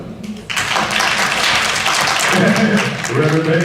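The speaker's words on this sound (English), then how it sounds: "Clap your hands if you're having a good time" An audience at an informal gathering claps along steadily, with dense continuous applause that comes in loud after a brief quieter opening and runs to the end with no voices over it.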